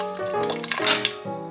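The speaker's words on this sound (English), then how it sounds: "I'm just gonna fill this up with water to cover it by like an inch." Tap water runs into a cooking pot to cover food by about an inch, a loud, close gushing with resonant, shifting tones as the level rises, and no talk.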